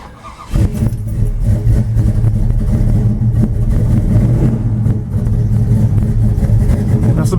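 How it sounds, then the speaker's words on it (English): A 1972 Pontiac LeMans GT, a GTO clone, starts from cold with a brief crank, then its engine catches and revs loudly, settling into a strong, rough idle close by. "That's about how it sounds when I crank it up cold."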